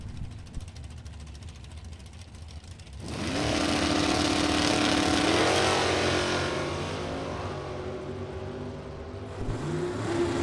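A 1970 Buick GS and a 1969 Camaro launch down a drag strip, a distant rumble that bursts into a loud rising roar of hard acceleration, then holds and fades as the cars pull away.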